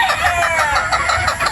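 A broodstag rooster, one of a batch of sweater-Boston gamefowl crosses, crows and clucks close by in a loud, continuous burst with layered bird calls and no talk.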